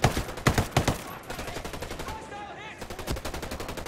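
Rapid bursts of automatic gunfire crackle through a Tom Clancy's Ghost Recon firefight, loud at first and then thinning into scattered shots, with a brief voice mixed in underneath.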